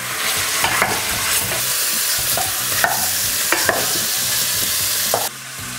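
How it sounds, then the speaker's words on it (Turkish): Steady crackling sizzle of large chunks of meat and tomato paste frying in a pot, with a few louder stirring scrapes and clinks throughout. "Etle beraber salça da kavrulsun."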